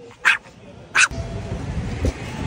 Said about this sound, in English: I was gonna show you the cute dog, but it's not cute.